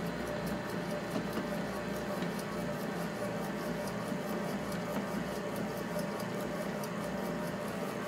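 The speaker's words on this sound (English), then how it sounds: "That's what you call a mixer." A mixer runs steadily as it blends a large batch of bath bomb ingredients, liquid and baking soda, producing a constant close motor hum with churning texture throughout, with no speech.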